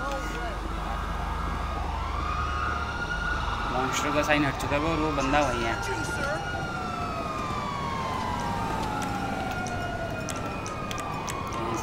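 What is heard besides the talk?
police siren in video game GTA V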